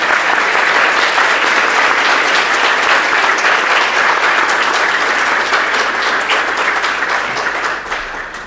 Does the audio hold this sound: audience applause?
yes